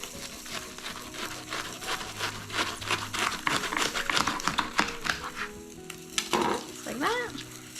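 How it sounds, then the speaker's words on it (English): Spiky vegetable tips are snipped off one after another around the vegetable, giving a quick series of crisp, faint cutting clicks and crunches close by. "I just cut off the tips here all the way around"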